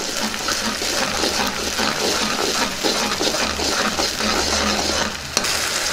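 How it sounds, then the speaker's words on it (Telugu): Tomato puree being stirred into a green pea curry in a pot gives a continuous wet churning and scraping over a steady sizzle, loud and close, with a sharp clink near the end and no speech. "ఇందులోనే టమాటో ప్యూరీ కూడా వేసేసుకుందాం ఒకసారి బాగా కలుపుకుందాం"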